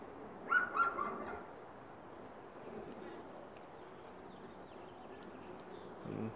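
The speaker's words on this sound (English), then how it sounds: "It's gonna go over here to the neighbor's house and bark at the dog" A dog barks at the neighbor's dog across the street: a few short, fairly distant barks near the start, then steady outdoor background with no further clear barking.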